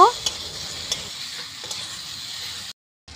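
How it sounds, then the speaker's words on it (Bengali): Turmeric and ginger paste stirred in a hot pan, a loud steady sizzle with a few spoon scrapes, close up, cutting off abruptly near the end. "এবার সব কিছু খুব ভালো করে নেড়ে নেব"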